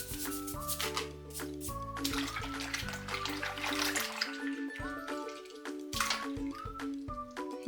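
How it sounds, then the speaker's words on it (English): A toy dingo scrubbed in a tub of water, with splashing, dripping and sloshing close by, mixed with music and no talking. "Let's give them a good scrub."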